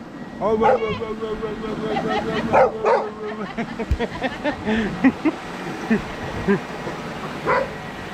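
Several dogs bark and yip in a rapid, overlapping volley close by, with people chattering in the background.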